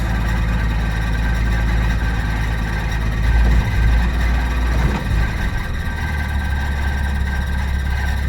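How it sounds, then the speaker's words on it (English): A steady, rumbling car engine idles nearby, loud and continuous with a slight shift in tone midway. "There we go, now it's idling."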